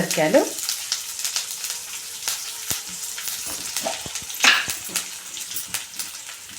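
Okra frying in a pan with curry leaves, salt and turmeric, being stirred: a steady close sizzle with scraping and clinking strokes from the utensil and occasional louder spatters, with no talk.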